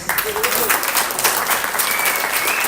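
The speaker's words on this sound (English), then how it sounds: "So let's encourage them by your hearty applause" Audience applause for children who have just performed at a stage event, dense steady clapping filling the whole stretch with a lively crowd feel and some voices mixed in.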